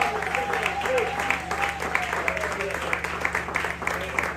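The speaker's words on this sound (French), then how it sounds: "Est-ce qu'on peut bien acclamer? Donc vous êtes unis, acclamez." A church conference crowd applauding and cheering, dense continuous clapping from a large audience filling the space steadily, with a voice carrying over it.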